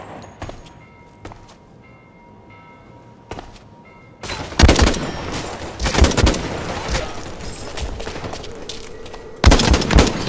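Small-gun fire in the shooter game Blacklight: scattered soft shots early, then a loud dense burst of rapid firing from about four seconds on, with sharp bursts again near the end, no talk.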